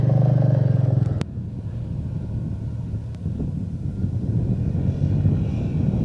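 A motorcycle engine straining up a steep climb in first gear, a loud droning labor that cuts off sharply after a second, then a lower rumbling engine drone with wind noise.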